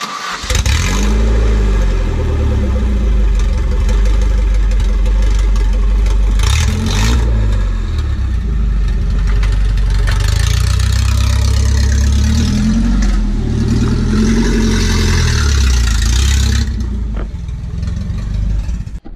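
A loud Dodge Hellcat engine with a lumpy, choppy cammed idle runs throughout, rising into brief revs a few times before settling back, with no talking.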